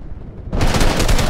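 Video game gunfire starts abruptly after a quiet moment and rolls into a loud, continuous rattle of shots.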